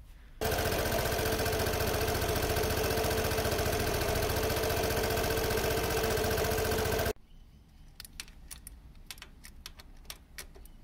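A Yamaha Xmax 125 (YP125R) scooter engine idles steadily and loudly up close for about seven seconds, then cuts off, leaving faint clicks and ticks in a quiet workshop.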